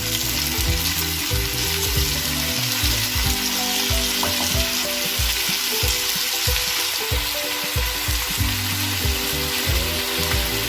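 Tomatoes hit a hot pan for Hyderabadi paneer and fry in a loud, dense, continuous sizzle with scattered crackles and scrapes, close up and without speech.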